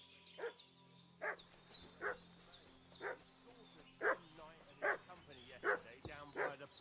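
Dog barking in Kingdom Come: Deliverance II, a series of loud, repeated barks in an uneven rhythm, with high yips between them, over a steady low hum and a murmur of voices.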